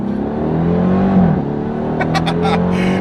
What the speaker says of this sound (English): that supercharger noise